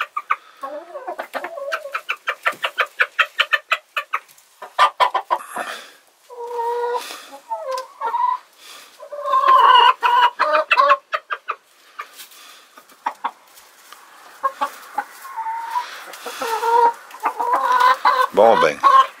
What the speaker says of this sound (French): Un vrai coq, en tout cas, un vrai coq qui s'en laisse pas imposer dès le départ